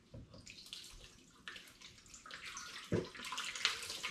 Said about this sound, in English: I'm just going to rinse my Demijohn.